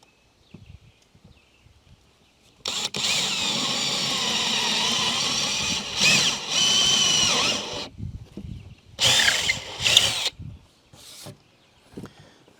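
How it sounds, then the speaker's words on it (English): A power drill bores holes in a tiny house countertop in a long steady whine, followed by several shorter bursts separated by pauses, close and fairly loud. "drill some holes to get started"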